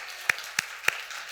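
A church congregation gives thanks with three sharp, evenly spaced claps in unison, each a crisp, isolated smack over a quiet room.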